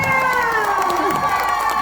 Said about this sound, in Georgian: თქვენი აპლოდისმენტები მანგლისის გუნდს